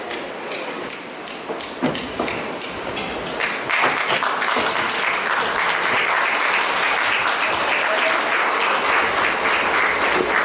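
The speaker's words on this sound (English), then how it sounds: "please give him a lusty round of applause" Wedding reception guests break into sustained applause after a toast, the clapping starting scattered and swelling into a dense, steady roar of hands that fills the room and holds to the end.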